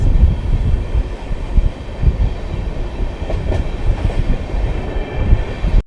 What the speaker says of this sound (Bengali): ছুটে চলেছে সাইরাং কলকাতা এক্সপ্রেস